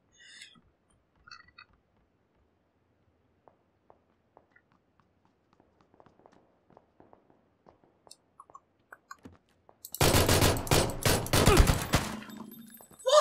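Pistol gunfire in PLAYERUNKNOWN'S BATTLEGROUNDS, a near-silent stretch of faint footsteps and clicks giving way to a loud, dense volley of rapid shots in the final few seconds.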